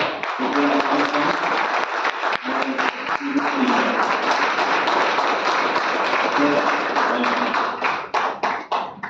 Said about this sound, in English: So I want to hear the largest, the warmest round of applause.